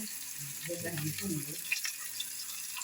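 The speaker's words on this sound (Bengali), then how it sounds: "ইলিশ মাছ ভাজা হইতেছে" Hilsa fish frying in a pan gives a faint, steady sizzling hiss throughout, with a brief murmur of voices partway through.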